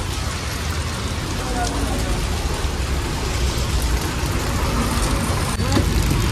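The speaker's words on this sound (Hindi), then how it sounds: "बारिश तो कम नहीं हो रहा है" Heavy rain pours steadily onto a car stopped beside a road near National Highway 750, a dense, even drumming hiss that fills the whole stretch without a break.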